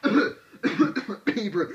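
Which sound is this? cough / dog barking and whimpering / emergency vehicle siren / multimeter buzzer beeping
cough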